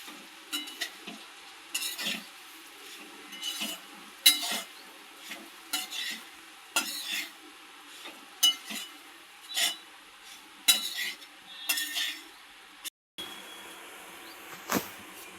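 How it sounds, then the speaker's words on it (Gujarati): Crumbled rotli being mixed with salt, heard as a steady run of short, close scraping stirring strokes, about a dozen in quick rhythm, with no voices. "સારી રીતે મિક્સ કરી લઈશું."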